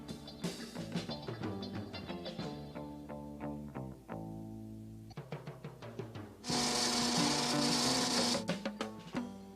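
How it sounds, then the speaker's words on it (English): A cartoon drill boring a hole in an undersea lab, heard as a string of mechanical clicks and knocks that build into a loud, steady grinding whir for a couple of seconds before tapering off. "drill another hole at the bottom."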